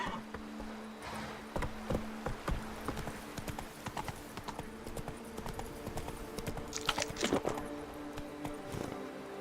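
Horse hooves clip-clop in a rapid, continuous patter in The Witcher 3: Blood and Wine, set against busy game ambience with a brief snort or whinny near the end.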